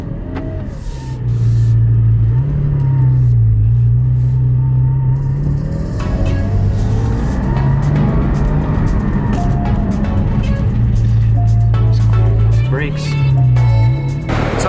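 A GT4 sports car with a manual gearbox is revved repeatedly. Its deep engine note climbs and falls in several loud, close swells over a steady idle rumble.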